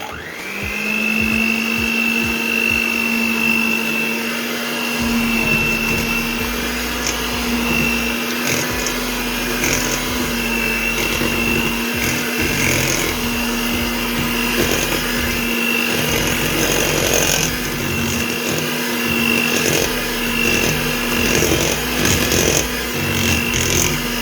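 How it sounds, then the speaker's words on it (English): A hand mixer whirs steadily through cake batter made from cake mix, a continuous close motor drone with a constant pitch and faint rattling, running throughout without pause. "So what is this you're using? A hand mixer."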